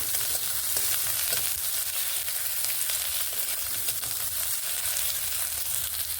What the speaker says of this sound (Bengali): পেঁয়াজের রসুন দিয়ে এইভাবে ভেজে নেব পেঁয়াজ রসুনগুলোকে